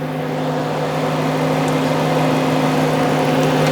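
A Porsche Boxster 987 engine runs at a steady idle with the air conditioning on max recirculation. It gives a constant close hum with a smooth whirring tone and no changes in revs.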